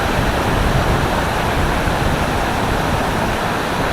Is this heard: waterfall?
yes